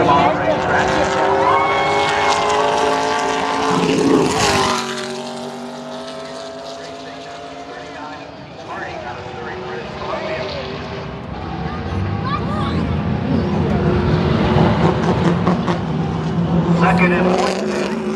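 Race cars lapping a road course at Pacific Raceways, engines rising and falling in harmonic whines as cars pass by and fade, with a commentator's voice running over the track noise throughout.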